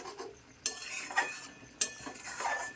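Potatoes are stirred and fried with a tomato spice paste in a pan, soft scraping and a couple of sharp spoon knocks against the pot over a faint sizzle, close and fairly quiet.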